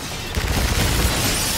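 Heavy-recoil gunfire in Call of Duty: Infinite Warfare, a dense, loud burst of rapid shots and booms running through the whole moment with no talk over it.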